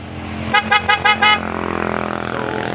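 A Yamaha Aerox scooter horn honks in four quick bursts, loud and close, then an engine keeps idling steadily underneath.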